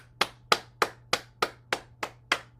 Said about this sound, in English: So we start with clapping.